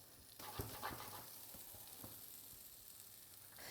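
Straw potatoes frying in a pan at home, swirled around to stir them, giving a faint steady sizzle with a few soft knocks and shuffles of the pan; no voices.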